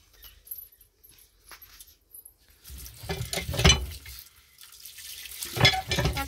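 Ghatkol (ভেটকোল) leaves are washed by hand in water, with splashing and rinsing that swells in two louder bursts after a quiet start, close and moderately loud with no talk.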